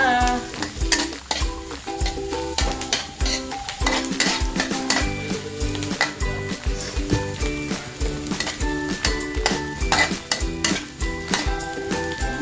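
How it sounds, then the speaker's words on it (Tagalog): Garlic is added and sautéed in a pan while a spoon stirs and scrapes against the metal, with rhythmic clinks and a steady sizzle running throughout. "At ang sunod natin ilalagay ang bawang."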